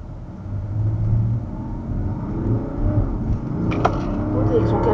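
A truck engine rumbles low and steady nearby, revving slightly as it moves, with faint voices underneath.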